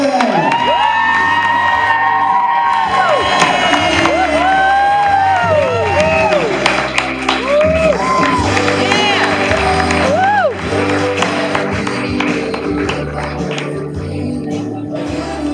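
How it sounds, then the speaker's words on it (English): Wedding guests clapping and cheering to welcome a newly married couple before their first dance, with loud whoops, shouts and high excited voices over sustained applause from a large nearby crowd, while an announcer's voice carries over the noise. "Let's clap your hands for Mr. and Mrs. Maddie and Dakota Franklin."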